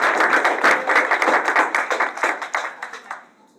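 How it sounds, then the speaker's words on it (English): Audience at a community education council meeting applauds a student speaker, with clear, rapid handclaps from a modest crowd that thin out and fade toward the end. "Everyone give him a nice big round of applause."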